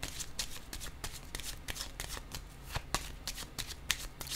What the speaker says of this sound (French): je vais déposer quelques cartes encore.